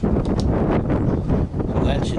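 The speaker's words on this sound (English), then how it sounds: "windy out here." Gusty outdoor wind buffets the microphone as a steady low rumble through the whole moment, heard while someone handles a Merwin Hulbert single-action revolver outside.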